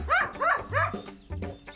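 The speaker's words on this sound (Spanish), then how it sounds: "¡Es un perro ladrando!" Several rapid, high-pitched dog barks in a rhythmic series, close by, with yipping tones and a short gap before the last ones.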